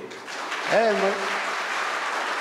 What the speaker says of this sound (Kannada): ಒಂದು ಚಪ್ಪಾಳೆ ಹೊಡೀರಿ.